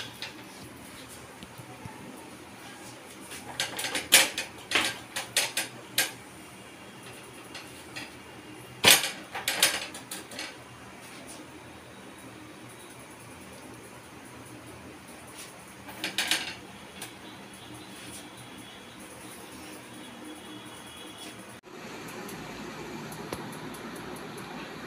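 Gujarati bakri flatbread is roasted on a pan in a home kitchen, with clusters of sharp metallic clinks and scrapes of a utensil against the pan at intervals over quiet background hiss.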